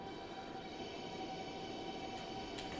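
An ICE 3 high-speed train in the Transport Fever 2 game rolls along with a steady rumbling hum and faint tonal whine, a continuous quiet rail drone with no speech.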